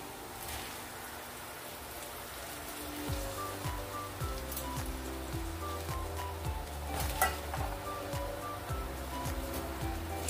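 Fresh spinach added to a hot pan of nearly fried vegetables gives a steady crackling sizzle, joined by a low rhythmic scraping and stirring that starts a few seconds in and continues close by, with no talking.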